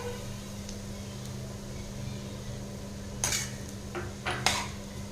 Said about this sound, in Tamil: சேர்த்திட்டு நல்லா கலந்துக்கலாங்க